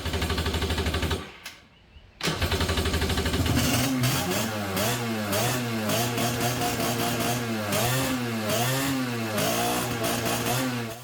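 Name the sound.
Kawasaki 750 jet ski two-stroke engine running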